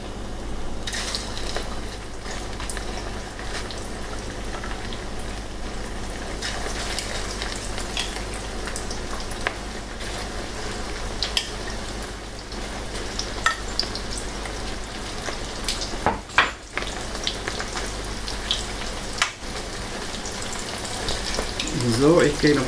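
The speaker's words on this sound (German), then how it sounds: "Hähnchenfleisch schon anfängt zu brutzeln." Chicken pieces sizzle in a hot pan for Chinese-style orange chicken, a continuous crackling hiss that holds steady throughout, with brief stirring clatter and no talking.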